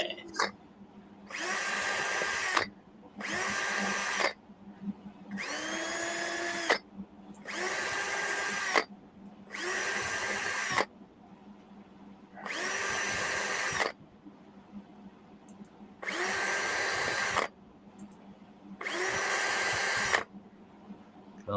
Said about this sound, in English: All right, let's listen to John do some drilling.